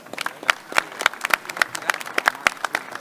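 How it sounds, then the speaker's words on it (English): An audience at a health tech competition gives a round of applause, a few seconds of uneven, sharp hand claps from a modest crowd, fairly close and without speech on top. "Big round of applause for Zach."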